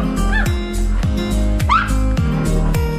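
Boxer dog guarding the front of a guesthouse, barking in a quick run of sharp, close woofs with a couple of whiny yelps mixed in.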